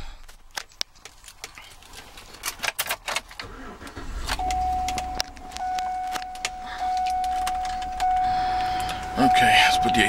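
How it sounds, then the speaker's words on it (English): A black 2010 Chevrolet Suburban LTZ 2WD SUV at a Miami used-car lot is started from inside: keys jangle, the engine cranks and catches, then a steady chime and an electric power window whir follow, fairly close. "Let me go ahead and get inside now and get it started for you."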